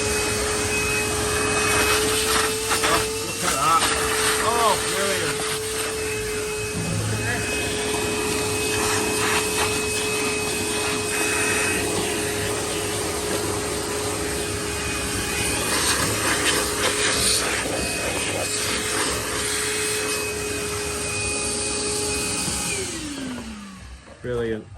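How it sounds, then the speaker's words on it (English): A workshop hoover runs steadily for the whole stretch with a loud, constant whine, used to clean up a Churchill surface grinder. Faint knocks and brief scrapes surface over it before the motor winds down at the end. "I'll just fire the hoover up."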